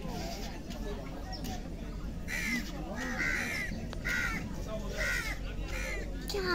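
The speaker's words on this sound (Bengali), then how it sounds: "কই কাক? হ্যাঁ কাক" Several crows caw repeatedly at a riverside ghat in the afternoon, their harsh calls coming in a loose series over a busy outdoor background while people talk nearby.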